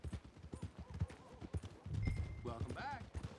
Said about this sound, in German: unser Pferd macht gerade ein paar Mätzchen